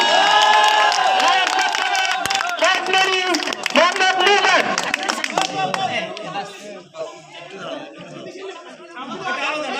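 An audience at a tournament event claps to welcome the chief guest, steady applause running throughout beneath loud crowd chatter and overlapping voices, with cheering mixed in.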